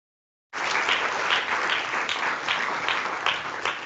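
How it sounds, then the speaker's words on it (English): An audience at a conference forum breaks into applause, sudden onset after silence, then steady dense clapping sustained to the end. "I hope you have heard this was your applause"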